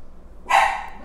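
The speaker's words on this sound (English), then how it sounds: "I apologize for the barking." One sharp, loud dog bark rings out close by after a moment of near silence, then fades quickly.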